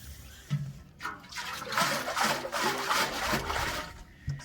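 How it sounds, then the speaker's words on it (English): Fresh tap water rinsing out a milking bucket with leftover milk in it, heard as a close, steady splashing and swishing with a few sloshing bursts. "rinse out that milk a little bit with some fresh water"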